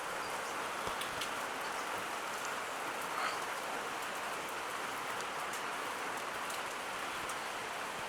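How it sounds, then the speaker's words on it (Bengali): Heavy rain pours down steadily in Kurseong, a dense, even patter on surfaces with scattered sharper drops throughout and no voices. "প্রচণ্ড বৃষ্টি হচ্ছে, প্রচণ্ড।"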